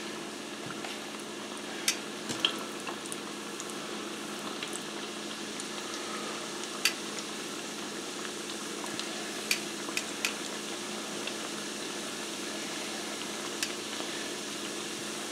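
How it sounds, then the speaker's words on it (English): Cheese ravioli sizzles and crackles steadily frying in hot oil, a soft continuous hiss broken by occasional sharp pops. "Look like they're frying up nicely."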